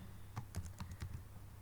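Quiet, quick keystrokes on a computer keyboard as an email subject line is typed, a short irregular burst of clicks over a low steady hum, with no talking.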